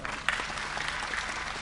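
An audience claps together at a live Gujarati comedy and bhajan programme, a dense, steady burst of applause that fills the short stretch without speech.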